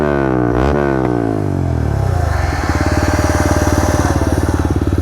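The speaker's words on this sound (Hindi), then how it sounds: "अपनी बाइक भी कर देते हैं स्टार्ट," A motorcycle fitted with an Akrapovic exhaust is started close by, with a rising crank and rev and then a loud, steady, rapidly pulsing idle.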